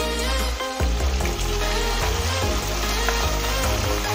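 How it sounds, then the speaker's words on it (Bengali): Cut eggplant and dried lote fish fry together in hot oil, giving a continuous, dense, loud sizzle with faint stirring. "পুরোটাই এর মধ্যে দিয়ে দিচ্ছি তেলের মধ্যে। আর দিয়ে দেব বেগুন।"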